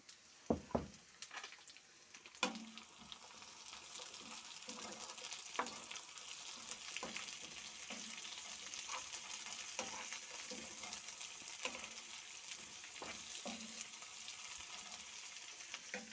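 Steady bubbling and sizzling from a pot of buckwheat porridge boiling on the stove, with occasional soft clinks and stirring knocks, close and continuous throughout.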